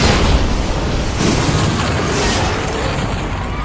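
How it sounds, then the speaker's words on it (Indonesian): A huge blast from an automatic bank door booby-trapped in a Jason Statham action film roars as a dense, loud rumble filling the whole moment, steady and without voices. "pintu otomatis itu meledak besar membuat beberapa anggota SWAT gugur seketika"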